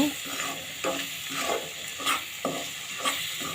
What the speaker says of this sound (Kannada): ನೋಡಿ, ಈಗ ಮಿಕ್ಸ್ ಮಾಡ್ಕೊಳ್ಳಿ ನೀಟಾಗಿ.